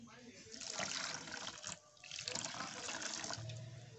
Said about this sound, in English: then the next thing, we'll add some water to it.